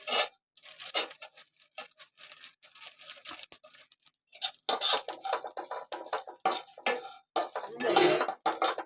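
Malvani masala spices are dry-roasted in a pan: quiet, intermittent scraping and clinking of a spatula against the metal pan in short irregular strokes, with brief silent gaps between them.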